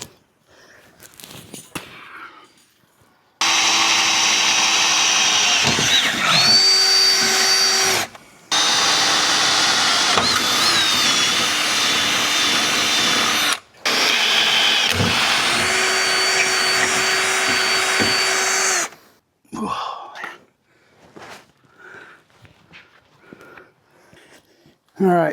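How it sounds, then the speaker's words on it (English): A power tool strips rust from a metal fuel tank, its loud, steady whine running in two long bursts split by a short pause and with shifts in pitch, with quieter handling noise before and after. "I'm gonna take a tool here and try to get some of this rust off."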